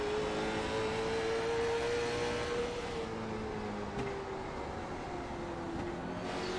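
Race car at Langley heard on board, lapping through a corner without being pushed hard, a steady loud engine drone whose pitch slides down and shifts as it eases through, with no talk.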